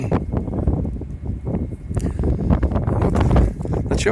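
Winter wind gusts through a walnut grove park in Anapa, blowing steadily into the microphone with rushing, buffeting noise and occasional sharp flutters, with no speech heard.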